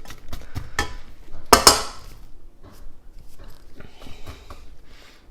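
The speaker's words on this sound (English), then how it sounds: "Give that a little stir with my big spoon." A big spoon stirs onions in oil in a pot, giving scattered clinks and scrapes with one louder clatter, with no talking.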